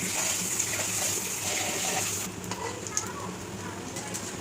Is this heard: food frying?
yes